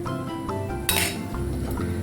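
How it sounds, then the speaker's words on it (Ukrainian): A metal clink as a lid settles onto a pot of pea soup, one bright hit in the middle over a steady low hum of cooking. "Закриваємо ось так кришкою."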